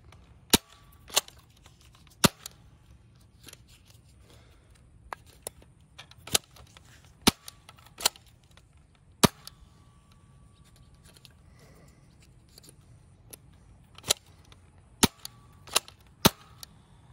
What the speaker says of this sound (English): Now let's see all three blasters firing.